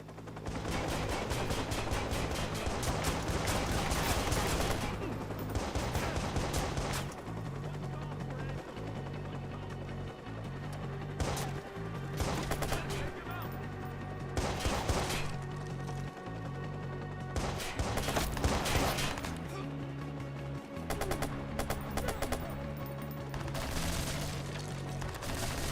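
Submachine gun fire from a video game crackles in rapid bursts throughout, loud and steady over music and game noise with no clear speech.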